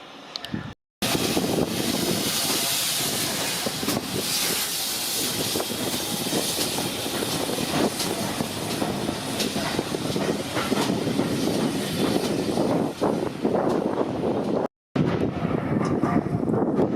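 A train bound for Kidderminster rumbles in steadily and loudly at platform 2 in Bewdley, Worcestershire, a continuous heavy roar with wind buffeting, broken by two brief dropouts.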